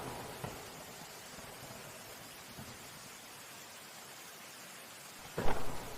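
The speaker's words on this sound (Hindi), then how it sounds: "तभी अचानक बहुत तेज़ बारिश होने लगती है" Heavy rain pours in a steady, dense hiss throughout, with a low rumble of thunder early and a sharper crack of thunder near the end, no voices present.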